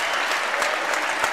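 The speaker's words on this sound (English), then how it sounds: "The Vikings are going to get a nice round of applause from their faithful here in the nation." Applause from the home crowd for the Vikings boys' basketball team at a high school game, a steady dense wash of clapping filling the whole stretch.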